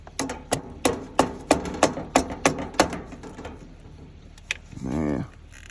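Repeated hammer blows ring on metal on a John Deere 300b backhoe, about nine sharp, evenly paced strikes followed by a pause and a short mechanical whir, fairly close.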